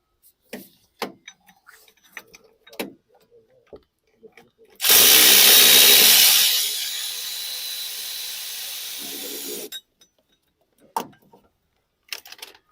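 A power tool undoes bolts on a Mini 1.6 engine during a timing chain job: one loud, close burst of whirring rattle that settles into a lower, steady spin for several seconds, with sparse clicks and knocks before and after.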